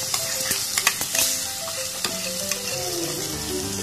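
Cooked lentils being stirred into frying okra in a pan, a close, steady sizzle with several quick scrapes and taps of a spoon early on, then a continuous hiss, no voices.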